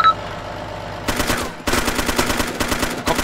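Video game gunfire: a rapid automatic burst after a brief quiet pause, then a longer sustained volley of rhythmic close shots, loud and with no talk over it.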